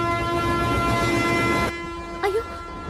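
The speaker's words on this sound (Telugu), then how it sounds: "అయ్యో, ట్రైన్ స్టార్ట్ అయింది" A train pulling away in a film scene: a steady loud rumble of wagons under a long sustained horn tone that cuts off, followed by a short rising whistle-like toot, with some voices underneath.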